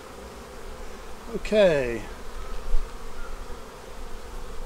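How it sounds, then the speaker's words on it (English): Angered honeybees swarm around an opened hive, a steady buzz filling the background while a voice speaks briefly over it. "I've just angered a lot of bees"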